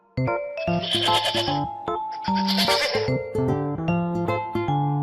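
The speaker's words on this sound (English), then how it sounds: "Goat." A goat bleats close and loud, a series of wavering nasal calls in quick succession with short gaps between them.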